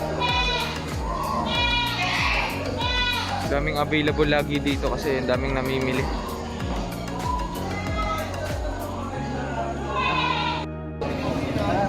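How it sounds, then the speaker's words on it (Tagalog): Goats, with a few sheep, bleat repeatedly at a busy cattle and livestock trading market in the Philippines, several wavering calls overlapping at close range while people talk loudly throughout. "Pero karamihan kambing talaga."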